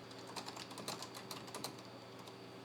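Fingers typing on a vintage Mac keyboard, a quick uneven run of close, crisp key clicks at moderate volume with no voices.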